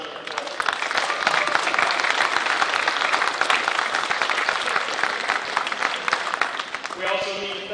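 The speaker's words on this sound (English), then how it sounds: "So if we could give all the judges a round of applause." Warm, steady applause from an audience for the judges at a construction trades competition, many hands clapping evenly for several seconds before it fades and a voice begins speaking.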